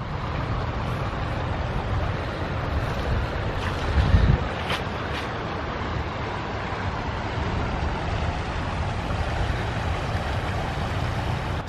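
Strong, gusty wind roars across the microphone beside a swift, cold, flooded river running high, a steady broadband rush with one brief louder buffet and no voices.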